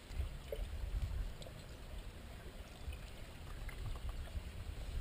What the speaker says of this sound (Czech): a teď si přelu do čutury